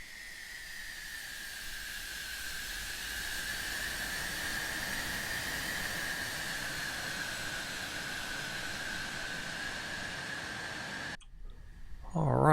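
A C-101 Aviojet jet taxiing in the DCS flight simulator gives a steady, even whine with a constant hiss, holding level for about eleven seconds before cutting off into a short, brighter, clattering burst.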